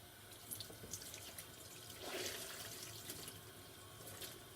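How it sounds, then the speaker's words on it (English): Dyed skating tights wrung out repeatedly under a running tap, a steady close stream of water splashing into a sink with soft drips and slosh, no talking. "And I'm just continuously wringing it out."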